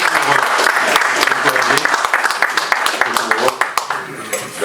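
Audience applause for a person called up for a family photo at an inauguration in Paris, steady dense clapping that thins toward the end, with speech mixed in.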